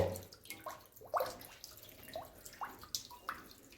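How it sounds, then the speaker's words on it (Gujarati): Water running through a pipe into a cattle water tank, with soft trickling, gurgles and intermittent drips splashing at irregular intervals, quiet and close. "આજે આપણે આ કુંડી બેસાડી છે પાણી આવવા માંડ્યું છે જો"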